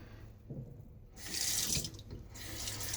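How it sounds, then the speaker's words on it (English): Tap water runs into a sink as a shaving soap tub is rinsed off, a close, quiet splashing stream that swells midway and keeps flowing, with no talking. "Wash off the tub here."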